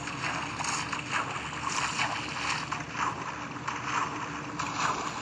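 A boat moves across water in Minecraft, producing a continuous splashing, rushing wash with gentle rhythmic surges, fairly loud and steady with no voices.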